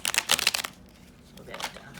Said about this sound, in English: This deck's a bit tricky to shuffle